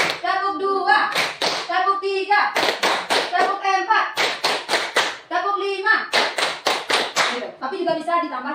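Rhythmic hand clapping in steady counted groups for children, sharp repeated claps alternating with a voice speaking between the bursts, close and clear.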